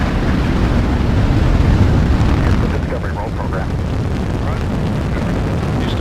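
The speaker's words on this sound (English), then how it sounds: "Booster ignition and liftoff of the Space Shuttle Discovery, returning to the space station" Space Shuttle Discovery's booster ignition and liftoff produce a dense, rumbling roar that fills the clip continuously and loudly, sustained without pause.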